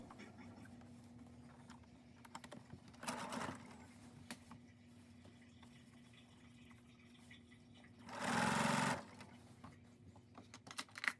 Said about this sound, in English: Then you're going to sew starting from the very edge and just straight stitch.